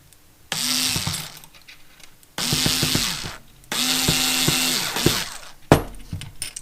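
A power screwdriver drives screws into a Tamiya Volvo FH12 Globetrotter 420 model truck kit, with three whirring bursts of a few seconds each that rise and fall in pitch, separated by brief pauses and closing with a sharp click.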